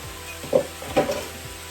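Thin-sliced steak fajita meat frying in a pan, a soft steady sizzle with two brief louder bursts as it is stirred, close and alone.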